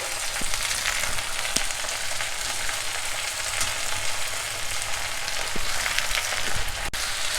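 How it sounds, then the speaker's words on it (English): Gongura (sorrel) leaves fry in oil in a pan, giving a steady, close sizzle throughout with a few light clicks and taps of tossing, and no voices. "Add the washed and drained Gongura or sorrel leaves to it"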